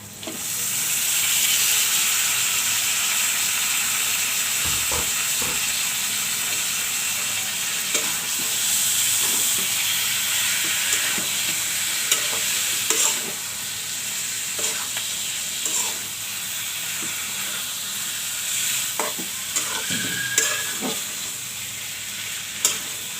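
Meat sizzling and frying in a pot while being stirred, a steady loud hiss throughout with scattered scraping and clinking of the spoon against the pot.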